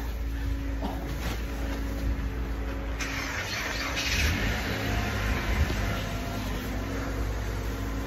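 A car engine struggles to start in Canadian winter cold, a low rough churning drone that swells and falters over several seconds, heard close with a faint voice in the background.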